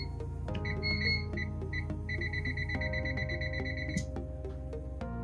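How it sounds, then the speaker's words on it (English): A short run of electronic beeps from a generator being calibrated, repeating at an even pace over a steady low engine hum. "if you hear that beep, that means that we're good"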